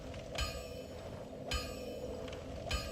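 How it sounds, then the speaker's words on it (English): A bell tolls in the Dark Souls video game, with three separate bright metallic strikes spaced roughly a second apart over a steady low rumbling ambience. "heard the bell ringing."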